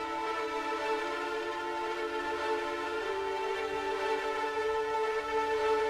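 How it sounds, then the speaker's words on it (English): Grand distorted strings from the Opus dark side bank play a sustained synth-style pattern, dense and steady with a held low note underneath, heard alone at moderate level with no voice over it. "opened up the grand distorted strings, and put the same pattern as for the synth I added earlier"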